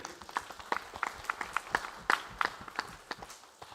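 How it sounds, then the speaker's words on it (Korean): A church congregation claps during a sermon, an uneven patter of individual hand claps with audible separate strikes, fairly quiet and roomy, without clear speech over it. "그 하나님께 영광의 박수 한번 돌려보세요"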